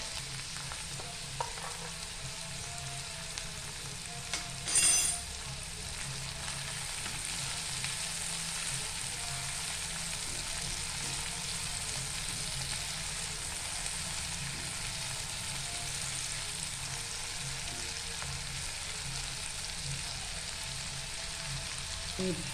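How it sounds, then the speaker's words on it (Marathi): Tomatoes sauté in a pan with a continuous, even sizzle that stays at a moderate level, broken once by a short, louder clatter of stirring. "टोमॅटो पण आपण आता परतवून घ्यायचं"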